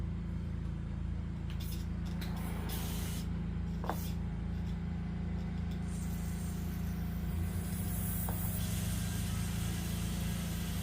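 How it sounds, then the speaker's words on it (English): A faint, steady hiss of carburetor cleaner sprayed around the carburetor of a Craftsman 5hp tiller runs nearly continuously, with a few light clicks and a low mechanical hum underneath. "just use some Carb Clean. I'm just going to spray a little bit around"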